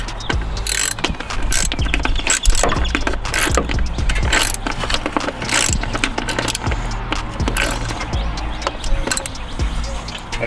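Repeated ratchet clicking in quick bursts while an intake manifold is unbolted from a Ford Edge engine, close and sharp, with pauses, tool clatter and a voice talking in between.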